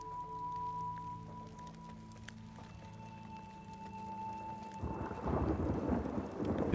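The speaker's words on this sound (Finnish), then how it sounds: "Ja sit myrsky iski." Thunder rumbles and rain falls in The Last of Us Part II, a sustained low tone giving way to a loud, close wash of heavy rain and thunder in the last couple of seconds.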